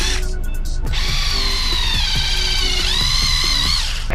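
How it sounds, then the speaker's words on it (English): Rotary buffer polishing paint transfer off a car body with rubbing compound, a loud steady whine that rises in pitch after a brief start-up and stays close and continuous, with no talking. "I'm gonna use some buffing compound"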